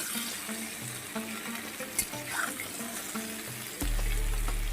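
Drumsticks and potatoes frying in a pan, a soft continuous sizzle with occasional light stirring clicks, a louder low rush rising near the end, no talking.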